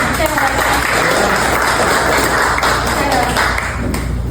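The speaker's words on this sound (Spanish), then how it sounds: "Vamos a dar un aplauso a Lía." Loud applause from an exile community gathering for a guest about to speak, dense clapping sustained throughout with some murmured voices underneath.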